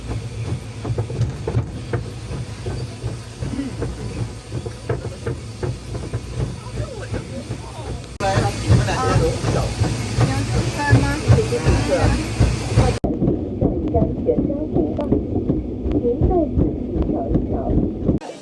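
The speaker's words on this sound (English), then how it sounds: "We are now in this little train to do a little sightseeing." Steady rumbling ride aboard a small open sightseeing train in Zhangjiajie National Park, China, rattling and clacking continuously, with people chatting nearby and the noise growing louder midway.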